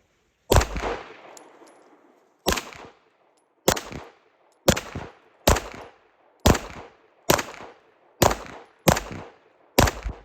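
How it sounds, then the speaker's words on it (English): Single gunshots from a Tisas Duty full-size 9mm 1911 pistol fired at a target on a range with 124 grain ammunition, nine loud sharp reports at a steady unhurried pace, each with a short ringing tail. "I'm going to shoot it a little low."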